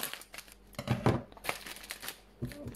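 Parcel wrapped in thick bubble wrap being opened by hand, with bursts of crinkling, rustling plastic and tearing in irregular handling bursts, close and fairly quiet, without talk.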